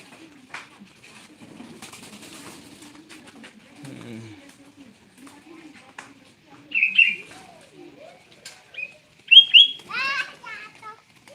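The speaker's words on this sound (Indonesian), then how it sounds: "Oh, kita melihat burung merpati." Racing pigeons coo and flutter close by in short, irregular bursts, while children talk and play over the quieter stretches.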